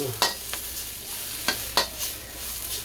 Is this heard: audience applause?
no